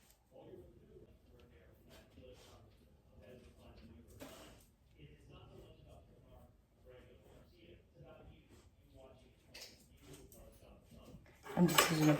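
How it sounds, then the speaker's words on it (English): A butter knife slicing a banana for banana pudding, heard as light clinks and taps of metal against a dish with soft scraping, ending in a louder clatter, all under a person talking. "Now let's cut up a banana."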